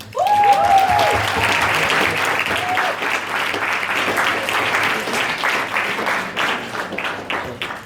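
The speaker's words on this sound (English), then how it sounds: "please now the last round of applause for you guys as well" Conference audience at an opening plenary session breaks into sustained applause, a dense wash of clapping from many hands with a few whoops over the start, gradually easing off.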